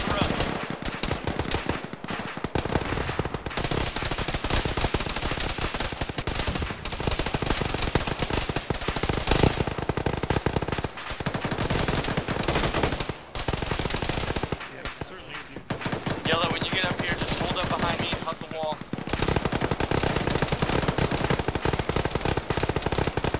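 Military video game firefight with dense rapid machine-gun bursts and single gunshots crackling almost continuously, punctuated by short pauses, while voices talk over the shooting.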